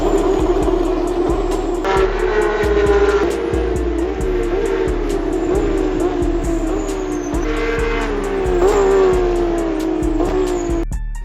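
Porsche Cup race cars at a circuit near Barcelona roar past one after another, loud, with engine notes rising and falling through gear changes and a steady high-revving drone throughout.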